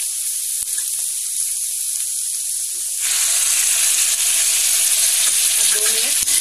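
Tomatoes dropped onto cooked beans and carrots in a pan for vermicelli upma, a steady hiss that jumps to a louder, fuller sizzle halfway through, with faint stirring clinks.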